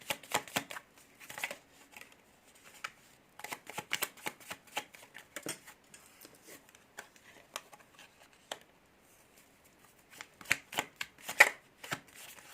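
Tarot cards are shuffled by hand in irregular bursts of soft, close riffling and slapping clicks, with short quiet gaps between the runs.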